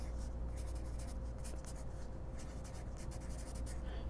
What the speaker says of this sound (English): we're going to write a back cover